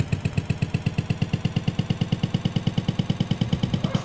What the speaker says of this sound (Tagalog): Grabe yung motor natin, parang kuliglig. Ang ingay.